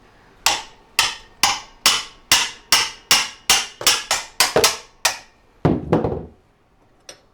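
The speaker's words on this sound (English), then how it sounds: "So now I'm going to see if I can just give it a couple whacks here and break it free." A hammer strikes a spanner about a dozen times in a steady rhythm, working to break free a stuck rear suspension bolt on a Suzuki DR650 motorcycle. The metallic blows are loud and close, followed by a scrape and a final light tap.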